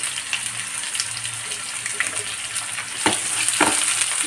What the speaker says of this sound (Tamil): வெங்காயம் ரொம்ப வதங்க வேண்டாம்.